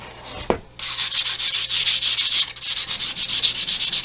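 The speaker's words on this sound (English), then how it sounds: "we're going to get some sanding done" Sandpaper scrubs over a small wooden reindeer craft in quick, rhythmic back-and-forth strokes, close and steady for several seconds after a brief knock at the start.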